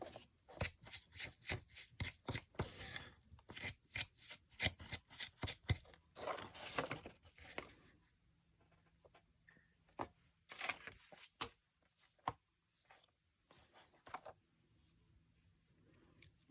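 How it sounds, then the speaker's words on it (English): Hands knead and squish a modeling glass mixture, giving quiet irregular sticky crackles and taps that come in dense bursts early and grow sparser toward the end. "you need to knead it together."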